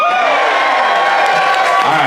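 Audience at a concert aboard a cruise ship cheering and whooping, a loud, sustained crowd roar with individual shouts and rising calls layered on top, continuous for a couple of seconds.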